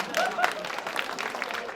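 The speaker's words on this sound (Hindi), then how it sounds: "बात सच्ची हो तो तालियों से इस्तेकबाल होना चाहिए" Brief applause from the audience at a mushaira poetry gathering in Sakinaka, Mumbai, a moderate wash of clapping with voices mixed in throughout.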